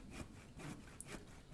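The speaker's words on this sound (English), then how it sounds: "So you can hear it sawing away, and it puts your planks right down there for you" An automatic saw bench in The Infected video game cuts logs into wooden planks, giving about three quiet, rhythmic rasping strokes, faint and close with no talk.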